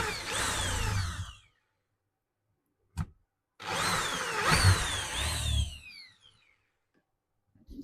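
A power drill with a 10mm bit whines as it bores, pitch sliding as it bites in, in two long bursts separated by a short knock and a pause.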